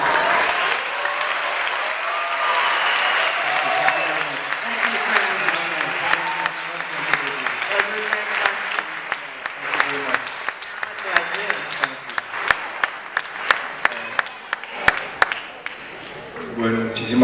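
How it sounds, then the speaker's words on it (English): An audience applauds Susan Sarandon in Cartagena. The clapping is dense and sustained at first, then thins into scattered individual claps and trails off, with voices speaking over the later part. "Applause for Susan, please, the audience."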